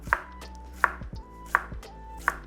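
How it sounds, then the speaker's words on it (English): A knife cuts a shallot on a cutting board in four sharp, evenly spaced chops, close and fairly quiet with no voices. "I'm also gonna take a shallot, just gonna cut off the end"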